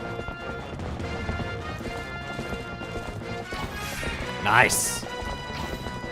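Galloping horse hooves in The Legend of Zelda: Twilight Princess HD, a steady clip-clop run under game music and effects, with a brief crash near the end and a short spoken word over it.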